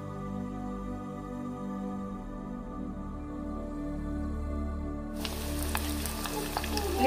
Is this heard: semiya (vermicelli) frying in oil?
yes